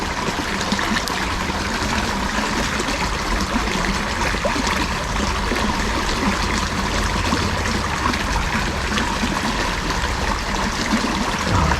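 Small river stream flowing in a steady broadband rush and trickle, continuous and fairly loud for the whole stretch with no voices.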